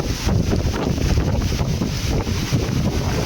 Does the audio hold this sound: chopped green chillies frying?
no